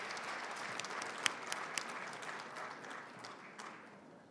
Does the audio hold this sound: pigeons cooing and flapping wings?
no